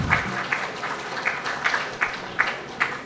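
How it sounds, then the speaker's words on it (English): An audience at a 25th anniversary celebration applauds a panel with thin, sparse clapping, a few evenly spaced claps standing out over a soft room background. "Please, a round of applause for all the panels"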